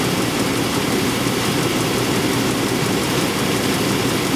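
Chevy 5.7L Vortec V8 idling with a misfire and a failing injector, a steady, loud, close engine drone running unbroken with no talk.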